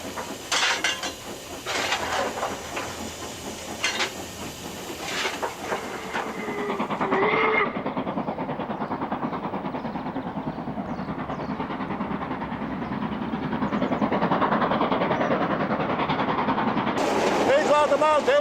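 An LMS Black Five steam locomotive works hard with rhythmic chuffing beats, then settles into a rushing steam hiss and rolling clatter.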